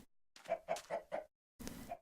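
Chickens cluck in the video game Minecraft, four quick clucks in a row, then a pause and one more longer cluck, fairly close and clear with no talking.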